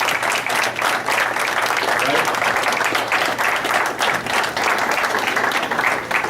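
Sustained applause from a crowd at a golf tournament gathering, dense steady clapping that holds throughout at close range.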